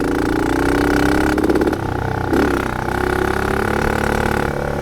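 Dirt bike engine idling at -35°C in extreme cold, a steady mid-pitched rumble heard close with slight wavering and a brief dip in revs, no voices.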